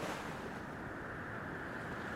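Surf washes onto a New South Wales coastal beach as a faint, steady, even roar of breaking waves, mixed with wind noise and without any voices.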